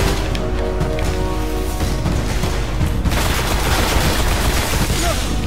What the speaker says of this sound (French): Là je tire.